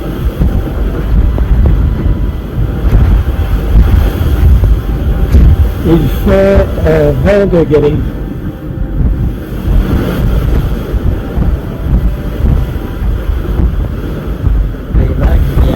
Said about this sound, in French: Les vagues viennent frapper le bateau.